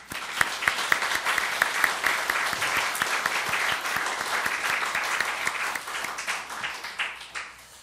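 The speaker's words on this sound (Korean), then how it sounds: "우리 축복의 박수 한번 치겠습니다" A church congregation applauds to welcome newcomers during a Sunday service, a steady wash of many hands clapping in a reverberant hall for several seconds before tapering off.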